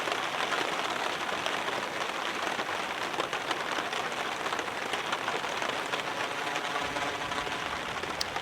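Heavy rain falls steadily on a bivvy bag while camping in a forest, a dense unbroken patter of drops drumming close on the fabric with no voices.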